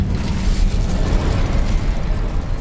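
The Incendio fire spell cast in Hogwarts Legacy: a rumbling, roaring burst of flame, loud and steady for a couple of seconds, with no voices.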